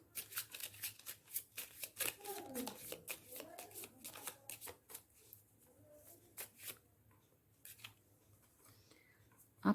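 Tarot cards are shuffled by hand at close range in soft, irregular riffling bursts and papery slaps, with a few cards dropping. A quiet voice murmurs beneath them.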